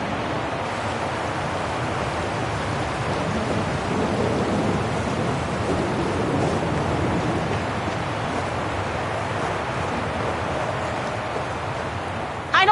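Steady rainstorm with rumbling thunder in the video game Syberia The World Before, a dense, continuous wash of rain and low rolling thunder holding at an even level throughout, with no voices over it.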